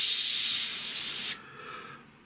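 A Gaahleri Swallow pistol grip airbrush spraying paint gives a loud, steady close hiss that cuts off abruptly, leaving only a faint airy tail.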